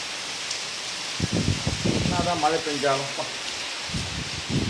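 Heavy rain and strong wind from a red-alert storm make a steady background hiss while someone talks over it, close to the microphone.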